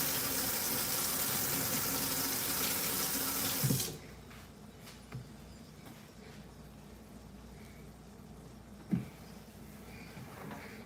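A kitchen item is rinsed under a running tap in a home kitchen, a loud gushing stream for about four seconds, then stops, followed by quiet room noise and a few soft clunks.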